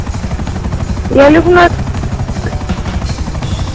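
Helicopters in the GTA V Online video game make a steady chopping rotor drone under continuous talk, with a brief louder whining flyby in the middle.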